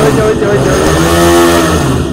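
A TVS Raider motorcycle engine runs at a steady, smooth idle close by at a bike showroom, heard throughout under loud talking.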